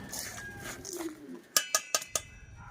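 Pigeons in a loft coo softly early on, then four sharp metallic clinks ring out in quick succession, close, like feed dishes or cups being handled at feeding time.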